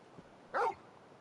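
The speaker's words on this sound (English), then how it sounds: "just a big puppy, aren't you?" A single short, sharp bark from a big dog in the video game Final Fantasy 16 stands alone against quiet background noise.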